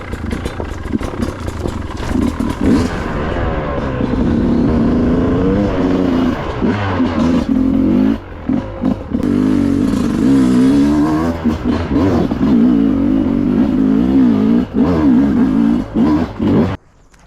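A Sherco 300 two-stroke trials motorcycle engine revs hard and continuously up close, its pitch rising and falling in quick bursts with brief dips between throttle blips.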